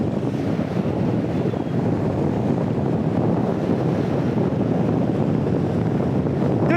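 Strong seaside wind roars and buffets the microphone continuously during sea bass fishing on the west coast, a dense, steady rumble that stays loud throughout with no voices.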